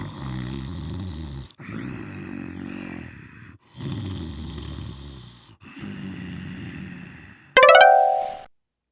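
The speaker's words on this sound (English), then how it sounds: "He was surprised to hear the loud snoring" A cartoon wolf in an animated fairy tale snores loudly in four long rumbling, grunting breaths with short pauses between, followed by a brief bright chime at the end.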